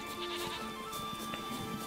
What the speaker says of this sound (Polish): Kozy me.